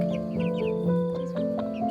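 Chickens cluck close by in a flock, a quick run of short, clipped calls overlapping one another over a couple of seconds, with no talking.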